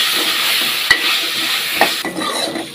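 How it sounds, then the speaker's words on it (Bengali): Potato pieces fry in a pan with salt and turmeric for a cabbage bhaji, making a continuous bright sizzle punctuated by several quick spatula scrapes and taps. "2 থেকে 3 মিনিট আলুগুলো ভাজি করতে হবে"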